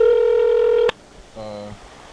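Phone tones sound as a call is placed: a loud steady tone stops sharply with a click, and after a short gap a second, softer tone plays briefly, close and alone.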